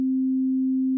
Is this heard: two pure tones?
yes